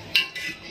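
A metal ladle clinks once against a serving dish as kheer is spooned out, followed by a softer scrape and faint stirring sounds, all close and brief.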